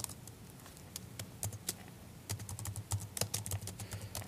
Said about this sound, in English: typing in your text, and selecting the quotation marks